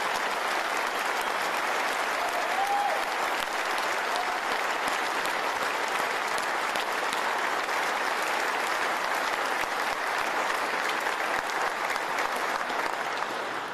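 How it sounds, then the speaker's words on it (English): Sustained applause from a large convention audience at a police organization's national conference in Nashville, following the national anthem; dense, steady clapping that stays loud and even from start to finish with no talk over it. "How about another round of applause for our artists for the national anthem?"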